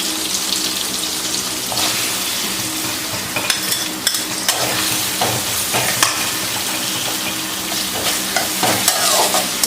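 Onions and ginger fry in coconut oil in a pan, giving a steady hiss and sizzle with repeated scraping stirs and faint water noise, close and moderately loud with no talking.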